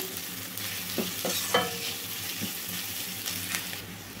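Onions stirred and frying in a pan for a baby potato fry, a steady sizzle with several spoon scrapes and clinks against the pan, close and moderately loud, with no talking.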